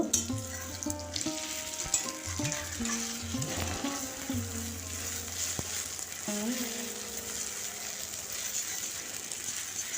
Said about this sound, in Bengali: এরপর ডিম পেঁয়াজ সব একসঙ্গে আমি ভেজে নেব